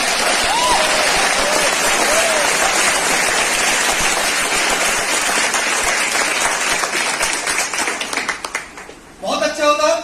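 Training-session audience applauds loudly for Assam, a dense, sustained wash of clapping that thins and fades near the end before a voice cuts in.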